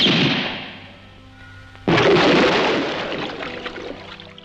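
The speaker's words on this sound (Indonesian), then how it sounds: "Tom menembakkan peluru terakhir yang mengenai alat vital Alex" A single loud gunshot in a film scene by a swimming pool, a sudden sharp report following a fading whoosh, then a decaying reverberant tail.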